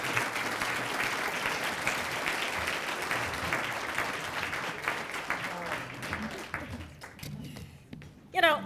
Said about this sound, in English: Let's give him a round of applause, Bill.